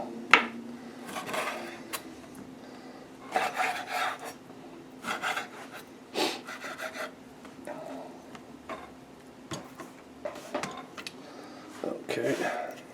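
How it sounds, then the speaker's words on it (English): A knife slicing pickerel fish into bite-size pieces on a cutting board, giving irregular soft cutting and scraping strokes at close range with quiet talk between them. "now we're just going to cut these up into about the same size of fish, snack bites for dinner"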